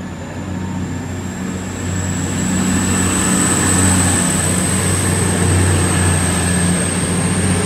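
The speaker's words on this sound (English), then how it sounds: "The 1532 East Midlands Railway service from Sheffield to London St Pancras." East Midlands Railway passenger train on the Sheffield to London St Pancras service passing through Derby station, a steady loud rumble and roar of engine and wheels building after the first couple of seconds and holding throughout, no talk.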